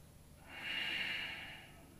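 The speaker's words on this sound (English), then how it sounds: "Deep breathing in and breathing out." A single deep breath during a yoga flow, a soft airy exhale that swells and fades over about a second, close but quiet, with no talk during it.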